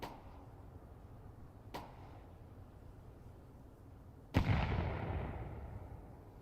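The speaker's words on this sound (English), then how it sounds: "Perfect grenade as well." Grenade explosion in a competitive video game match, a sudden loud blast with a decaying rumble near the end, preceded by two faint sharp cracks over quiet background.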